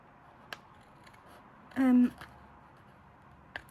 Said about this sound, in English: A bit closer with the littler scissors.